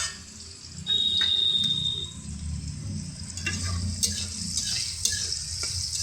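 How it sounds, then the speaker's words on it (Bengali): Onion peels and garlic fry in a pan with a steady close sizzle and stirring scrapes, and a brief high electronic beep sounds early on. "এই রসুনের ভিতরে একসাথে ভেজে দিই"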